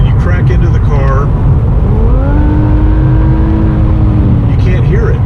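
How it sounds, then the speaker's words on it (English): A twin-turbo 3.0 Infiniti Q60 AWD winds up from inside the cabin, a smooth, rising engine whine with little exhaust note. It swells gradually under a steady road rumble after a brief bit of talk. "you hear the motor winding up, but you don't hear any exhaust coming out the back"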